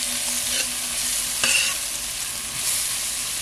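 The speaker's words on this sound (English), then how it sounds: "Now we're going to cook this turmeric powder for about a minute or so." Turmeric powder fries in a pan for a potato curry, a dense continuous sizzle with a few scraping stirs of a spoon, close and fairly loud, no talk.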